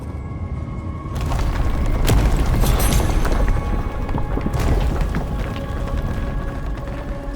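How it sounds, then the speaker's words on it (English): A large explosion in the video game Avowed: a sudden loud boom that swells into a long, dense rumble with crackling debris, then fades into a steady background hum. "That was a damn big explosion, wasn't it?"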